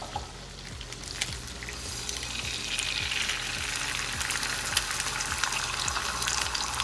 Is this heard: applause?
no